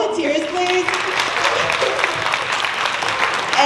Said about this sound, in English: Can we give an applause to our volunteers, please?